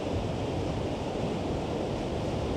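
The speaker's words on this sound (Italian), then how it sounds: "Questa è la cascata di Stiornarfoss." The Stjórnarfoss waterfall in Iceland roars as a steady, dense rush of falling water, continuous and unbroken with no voices over it.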